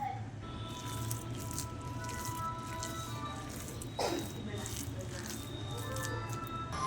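Lentil vada batter with chopped onion and herbs is mixed by hand, producing soft, wet squishing and patting sounds at close range over a steady background hum.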